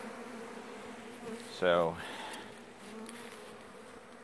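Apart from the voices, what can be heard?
honey bees buzzing at open feeding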